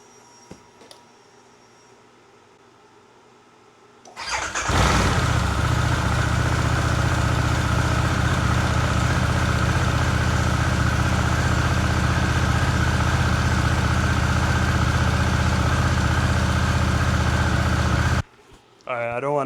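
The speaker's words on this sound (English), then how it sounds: "I want to do a cold start on the bike so you guys can hear the stock exhaust" Harley-Davidson Pan America ST on its stock exhaust, cold-started after a quiet moment, then settling into a loud, steady idle rumble before cutting off near the end.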